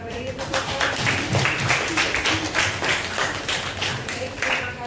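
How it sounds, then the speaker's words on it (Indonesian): An audience at an academic supervision coaching session claps in a lively, uneven patter that runs for several seconds. The applause is moderately loud, with murmured voices mixed in. "Oke, kita beri tepuk tangan."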